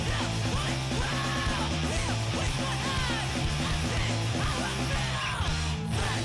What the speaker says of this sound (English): If you hear a song and it's like really fast like this and they're just yelling the lyrics, it's probably a hardcore punk song